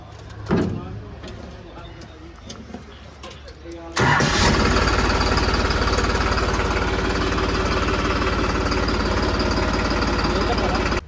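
A few seconds of clicks and handling noise, then a new tractor's engine cranks on its self-starter and catches, settling into a loud, steady diesel idle; a voice speaks early on.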